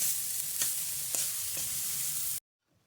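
Coriander leaves and peas fry in a pan, a steady close sizzle with a few sharp stirring scrapes, ending abruptly in near silence.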